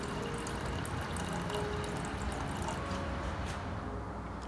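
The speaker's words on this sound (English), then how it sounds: "In a saucepan, add 2 cups of water." Two cups of water pour into a saucepan for masala tea, a quiet, steady trickling and splashing stream that runs for several seconds before tapering off.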